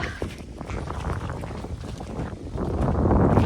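Steady rushing wind noise buffets the microphone beside a river while fishing, growing a little stronger toward the end, with no voices.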